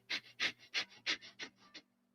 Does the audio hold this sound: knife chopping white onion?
no